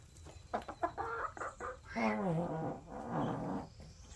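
Backyard chickens and ducks near a dirt-bathing area cluck and squawk up close in a busy, overlapping run of calls, several short clucks followed by a longer drawn-out squawk.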